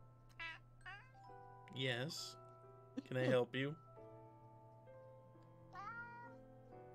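A cat meows several times in short, rising calls spread across the stretch, while a person speaks briefly in between; quiet room with a low hum underneath.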